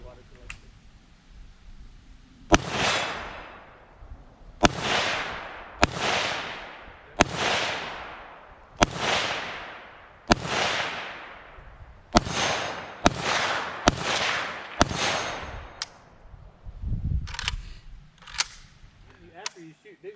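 Gunshots from a Century Arms limited edition VSKA AK-47 rifle, about a dozen sharp cracks fired one at a time at an uneven pace, each followed by a decaying ring and the thud of the bullet striking downrange, with a faint voice in the gaps.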